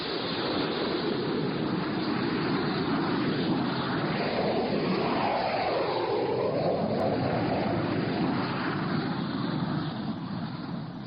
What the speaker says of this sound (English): Six jet fighters were taking off from Hink Field when Chuck Connor showed his pass